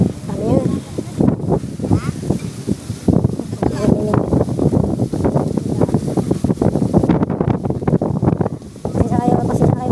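Strong wind rumbles against the microphone while a person talks over it, with gusts surging and easing in the background, at a yacht harbor.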